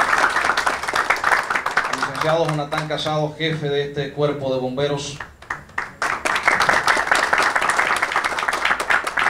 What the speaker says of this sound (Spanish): Vamos a darle un aplauso a la alcaldesa que nos acompaña esta noche.